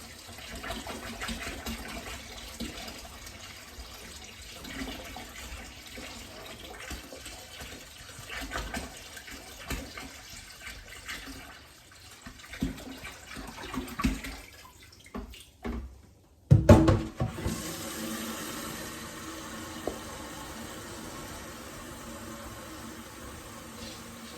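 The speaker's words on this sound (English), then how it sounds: "Just filling this up to 23 litres with cold tap water." Cold tap water runs into a wine kit fermenter being filled to 23 litres, a steady low gush with a brief louder splashing burst near the end.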